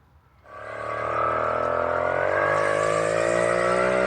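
A 50cc vintage Clark Scamp moped climbs a hill as its engine and gearbox rise into a loud, steady whine that keeps building in pitch, heard close up without talk.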